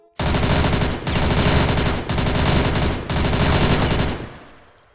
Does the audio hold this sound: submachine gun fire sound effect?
yes